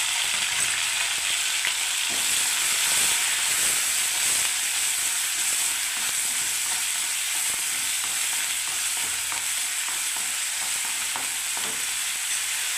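Onion paste with garlic sizzling and frying in hot oil in a pan, a steady broadband hiss with faint stirring scrapes running throughout, close and continuous with no talking.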